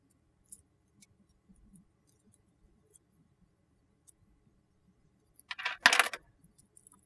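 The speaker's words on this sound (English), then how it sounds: "so you just want to cut cut those tails" Scissors snip the stretch cord tails of a bead bracelet, giving a brief, sharp cluster of close clicks after near silence, with a few faint ticks around it.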